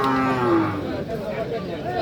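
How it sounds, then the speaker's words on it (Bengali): At a livestock market in Ishwardi, Pabna, a cow gives a loud, close moo for about the first second, its drawn-out call fading into the general din of the cattle market. "গরুটা আপনাদেরকে দেখাই দিই।"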